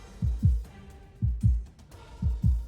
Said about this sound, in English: My heartbeat is all I can hear